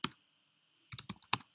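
Computer keyboard typing in a lab setting, a single keystroke followed after a pause by a quick burst of several clicks, close and fairly quiet with no talking.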